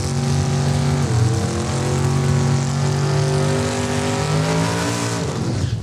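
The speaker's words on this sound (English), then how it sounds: "And that is the RWH Motorsports dragster, Richie Harder, behind the wheel." Drag racing car on the starting line at Saskatchewan International Raceway, a loud, close, steady engine roar with a rumbling idle that shifts pitch slightly and continues without letup.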